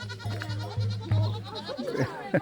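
Young goats (kids) bleat in short, wavering calls close by, two or three times within a couple of seconds, with faint voices behind.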